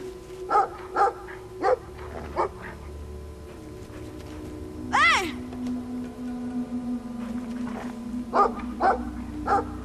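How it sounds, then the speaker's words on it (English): A dog in Brothers: A Tale of Two Sons barks repeatedly as it chases, sharp barks in loose bursts with a drawn-out howling yelp midway, over a low droning game background. "That dog coming after us?"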